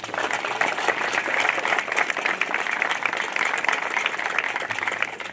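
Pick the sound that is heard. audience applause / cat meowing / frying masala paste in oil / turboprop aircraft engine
audience applause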